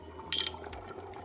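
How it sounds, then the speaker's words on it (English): Canned kitchen ready tomatoes poured from the can into a pot on low heat for Bolognese sauce, a short wet glugging splash followed by a sharper plop, close and brief with no talking. "We're gonna add in our pastine kitchen ready tomatoes."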